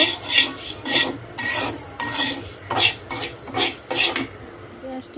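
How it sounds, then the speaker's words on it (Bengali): Mung dal being fried and stirred in a pan, with repeated metal utensil scrapes and clinks against the cookware in an irregular rhythm, close by, over a busy kitchen background. "এদিকে এই তো মুগ ডালগুলো ভেজে নিচ্ছি সবজির জন্য"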